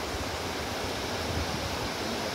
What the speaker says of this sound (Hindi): बहुत ही मस्त झरना आ रहा है।